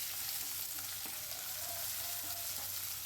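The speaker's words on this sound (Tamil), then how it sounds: "இப்போது பெரிய வெங்காயம் நல்லா வதங்கணும்." Large onion sautéing in a pan for rava upma: a steady, dense frying sizzle with occasional faint stirring touches, close and continuous, with no talk.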